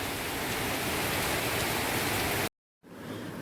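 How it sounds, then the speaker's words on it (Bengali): Heavy monsoon downpour pounding steadily as a dense, loud wash of rain, broken by a brief silent gap near the end before the rain resumes slightly softer. "একদম মুষলধারে বৃষ্টি চলছে।"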